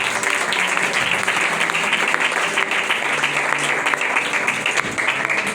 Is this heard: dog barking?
no